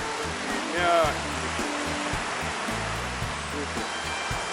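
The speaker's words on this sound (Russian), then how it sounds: "Такие красивые волны." Adriatic Sea waves washing onto the shore at Rimini on an overcast day, a soft continuous surf wash under background chatter and music.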